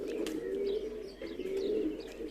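Soft, repeated cooing of a flock of pigeons, a low rolling murmur with occasional higher chirps, steady and fairly close, with no talking.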